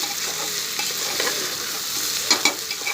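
Meat and spices for biryani fry in a pressure cooker pan, a loud, steady close-up sizzle with stirring scrapes and a couple of sharper clinks near the end.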